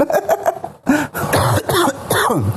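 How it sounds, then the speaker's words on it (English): Several sharp, harsh coughs close to the listener, a quick cluster at the start followed by longer, raspier coughing bursts. "Now you're coughing."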